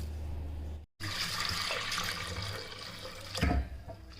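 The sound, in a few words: washing lentils under running water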